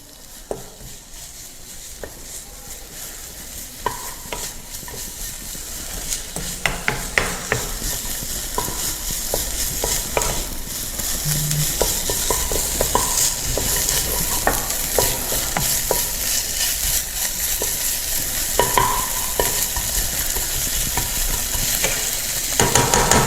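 Garlic stir-fries in hot oil for an eggplant stir-fry, a loud continuous sizzle up close, punctuated by frequent sharp clicks and scrapes of a utensil against the pan as it is tossed, with no talking.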